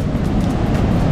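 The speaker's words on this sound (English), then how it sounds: "Look at that, it's super rough, right? The waves are huge" Large waves break on a rough Tobago beach, making a continuous close rumbling wash with some wind buffeting.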